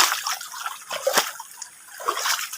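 Water from a clear river in dense forest trickles and splashes in quick uneven bursts, close and moderately loud, with brief dribbling pulses and no speech.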